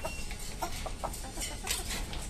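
Hill chicken (pahari hen) clucking in a repeated series of short, soft calls at close range, with steady background noise and no talk.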